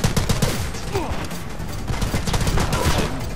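Rapid gunfire from the video game The Club: dense bursts of shots crackle close and loud throughout, over a busy battle background with a voice talking over it.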